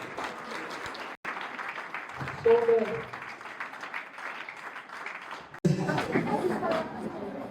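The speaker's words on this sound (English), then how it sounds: "Let's have once again the huge round of applause for him." Big round of applause from the audience at a school achievers' felicitation and counselling programme, a steady mass of clapping with crowd chatter and a voice over a PA coming through.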